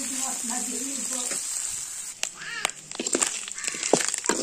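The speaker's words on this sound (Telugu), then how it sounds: "బాగా నూనెలో వేగాలి, అప్పుడే క్రిస్పీ టేస్టీగా ఉంటుంది ఫ్రెండ్స్" Dried fish frying in oil until crispy: a steady, close hiss of sizzling oil throughout, with a voice-like sound early on and clattering stirs toward the end.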